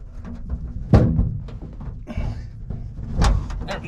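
The latch and heavy door of a 1957 Chevy Sedan Delivery pro street build open with sharp metallic clicks and clunks, then a creaking swing and a solid thump, all close and loud with no speech.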